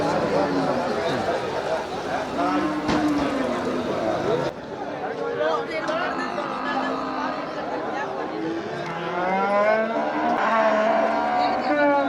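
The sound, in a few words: cattle mooing at a cattle market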